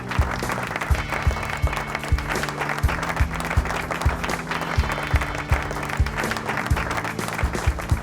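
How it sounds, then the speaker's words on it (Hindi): Hall audience applauds to welcome a guest at an International Women's Day event, sustained, even clapping filling the room over a low background hum. "जोरदार करताली सहित आसंतु स्वागत जणाइबा"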